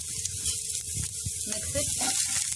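Small ginger pieces frying in hot oil give a steady, close sizzling hiss throughout, with faint stirring underneath.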